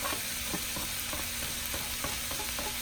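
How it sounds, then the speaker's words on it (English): Chopped soaked dried shrimp stir-fried in a hot pan for fried rice, a steady close sizzle with soft rhythmic scraping of the spatula every fraction of a second, no talking. "And what I'm going to do is just stir fry this"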